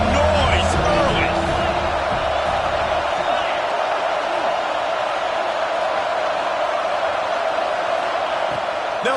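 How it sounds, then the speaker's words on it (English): A football stadium crowd roars and cheers in a steady, loud wash of noise with sharp whoops at the start, while nearby voices talk over it. "This crowd bringing the energy and noise early."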